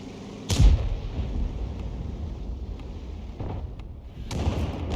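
Tank cannon fire in the Object 261 tank video game: a heavy boom near the start, then a rumbling, windy battle background with another blast building near the end.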